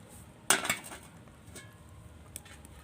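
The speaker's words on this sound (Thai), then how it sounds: "เนี่ยฝาหม้ออุบเอาไว้" A metal pot lid is set down onto a pot while fish parcels grill nearby, giving one sharp, bright clank followed by a softer rattle and faint clinks, close up, with no talking.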